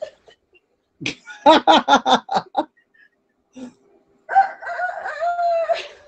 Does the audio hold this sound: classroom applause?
no